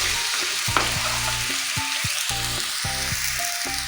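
Jaggery melting in a pan with a splash of water bubbles and sizzles up close, broken by several sharp clanks and scrapes of a spoon against the pan.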